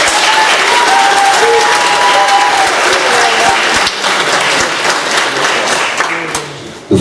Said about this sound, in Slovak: ja si myslím, že si zaslúžia potlesk.